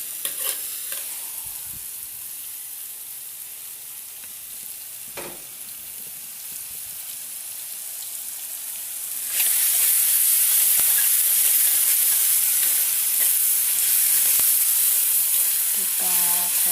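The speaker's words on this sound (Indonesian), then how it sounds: "kita goreng sampai harum ya, sampai matang atau keluar bau harum" Ground spice paste for a lumpia filling fries in hot oil in a pan, first as a soft sizzle, then as a loud, steady hissing crackle with faint stirring scrapes, close up and without talk.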